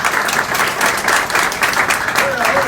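Audience applause at a political gathering in Haiti, loud and close, with continuous rhythmic clapping swelling in regular waves across the whole clip.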